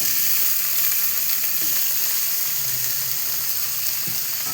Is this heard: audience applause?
no